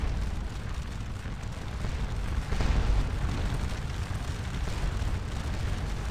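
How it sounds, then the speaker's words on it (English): Artillery cannons fire during a Battle of Ligny engagement in the Scourge of War: Waterloo video game, merging into a dense, continuous rumbling roar that swells slightly partway through, with no voices over it. "my guns are probably hammering away at them right now"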